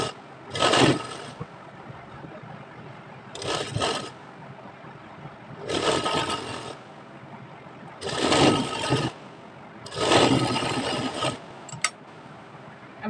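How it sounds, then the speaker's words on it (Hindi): A sewing machine stitches seams on a child's co-ord set garment, running in four or five separate bursts of steady whirring with short quiet pauses between, close and fairly loud with no talking. "अब इसे सिलाई लगा देंगे।"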